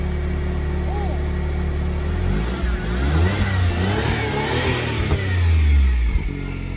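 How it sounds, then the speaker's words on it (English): A 1993 Suzuki Cappuccino's small engine idles, then revs up and falls back in a couple of close, loud blips, with people talking over it. "Rev it up."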